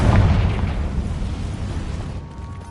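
A Confringo blasting spell explodes in the Hogwarts Legacy video game, one deep boom that hits hard at the start and then rumbles away over a couple of seconds.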